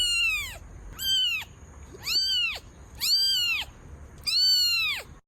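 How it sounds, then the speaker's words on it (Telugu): A cat meows five times in a row, each cry a clear, rising-and-falling wail separated by short pauses, fairly close and with no talk. "మంచి ఫ్రెండ్లీ క్యాట్ ఉంటే చూపించు."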